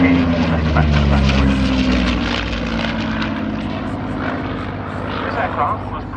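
Restored vintage propeller aircraft flying a display at the RAF Cosford Airshow, a loud steady engine drone with a falling pitch as it passes, close and continuous.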